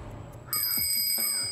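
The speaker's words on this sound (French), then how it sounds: "C'est une sonnette. Essaye-la." A bicycle bell rings twice with bright, close metallic dings that ring on briefly, following a moment of soft background noise.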